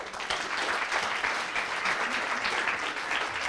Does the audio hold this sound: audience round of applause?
yes